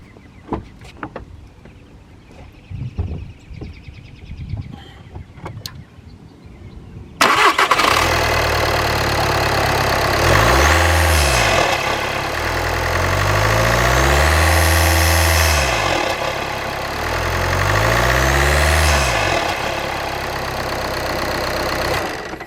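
A 2013 VW Golf TDI diesel, its air intake just changed, cranks and fires up loudly after some quiet handling noises, then settles into a steady idle with rhythmic rising and falling engine swells.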